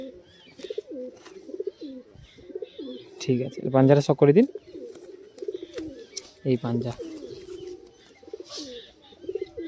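Madrasi high-flying pigeons at a loft coo in soft, throaty bursts, with a louder pair of coos near the middle, while someone talks nearby almost throughout.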